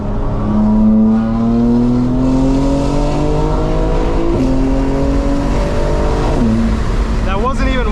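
A 2025 BMW M4 Competition xDrive, custom tuned to about 900 hp and running ethanol, revs at open throttle: a loud, steady engine drone climbs through the gears with brief dips at each shift, heard close up.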